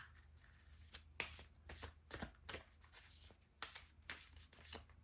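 A deck of tarot cards shuffled by hand, soft repeated riffling and flicking in an uneven rhythm, quiet and close, with no talk.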